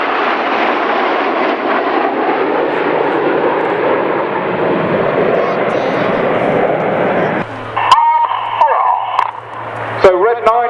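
Red Arrows display jets fly overhead at RAF Waddington, a loud, broad, steady roar that holds for about seven seconds before cutting away, with a voice talking over it and brief bursts of other sound near the end.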